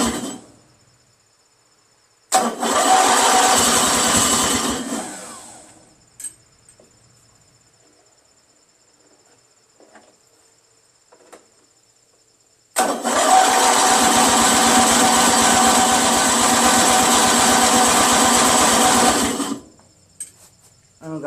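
A Briggs & Stratton 16HP opposed twin engine, running too rich, cranks hard in two long bursts, about three seconds and then about seven seconds. Each burst is a loud, fast, buzzing churn, with near silence and a few small clicks in between.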